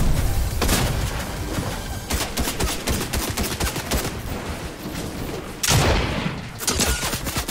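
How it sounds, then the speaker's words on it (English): Missile fire in the Fortnite video game, a dense, loud, fast barrage of rapid blasts and booms that runs throughout, with heavier explosive hits near the end. "Bombarding him with missiles."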